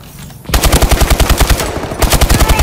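Rapid automatic gunfire in Call of Duty: Advanced Warfare rattles loudly in two sustained bursts separated by a brief pause, sharp and close with a steady mechanical rhythm.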